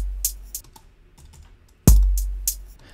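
A computer key is pressed to start playback, giving a sharp click near the start, followed by a few light taps. A louder, heavier key strike comes near the end, all close-up with no voices.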